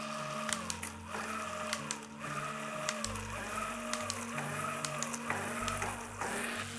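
Bafang mid-drive e-bike motor whirs under throttle, cycling through repeated rises and pauses as the rider releases and reapplies power and shifts gears, a close steady electric hum with light mechanical clicks.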